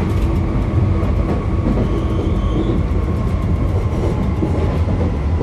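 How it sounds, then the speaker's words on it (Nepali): A Paris metro train runs through an underground tunnel with a loud, steady rumbling roar and faint rail clatter, heard from inside the carriage with no talking. "अहिले चाहिँ हामी अन्डरग्राउन्डभित्र मेट्रो रेलमा चाहिँ जाँदैछ।"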